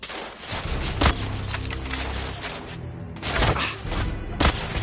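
Gunfire in The Order: 1886 during a sniper attack, a few sharp loud cracks with booming tails spaced over a rumbling battle backdrop.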